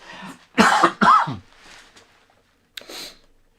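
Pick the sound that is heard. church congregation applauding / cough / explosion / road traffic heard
cough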